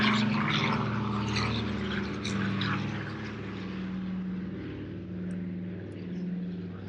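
A BD-5J small homebuilt jet at Oshkosh gives a steady, fairly faint engine drone with a sustained low hum and airy broadband roar; no speech.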